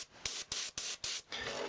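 An airbrush sprays paint onto a crankbait fishing lure through a stencil held against the gill plate edge, in four short hissing bursts with brief pauses between, then a softer trailing hiss.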